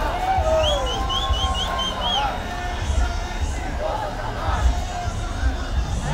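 A crowd at a street demonstration outside the 16th Battalion in Natal fills the air with babbling voices, with bright whistles rising above the din early on and people talking nearby.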